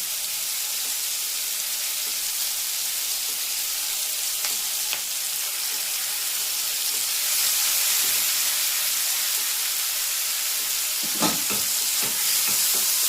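Udupi-style sambar ingredients with cooked toor dal fry in a pan, a loud, even sizzling hiss holding steady with a brief burst of stirring clatter near the end, no talk.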